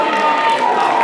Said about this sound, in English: Give all of a round of applause